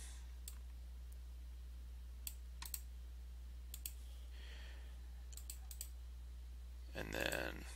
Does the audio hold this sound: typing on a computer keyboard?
yes